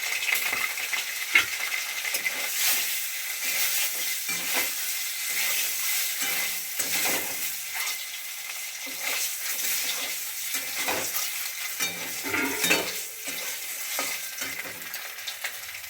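Country chicken eggs fry in turmeric-tinged oil in a wok, a steady close sizzle with scattered crackles and light spatter throughout.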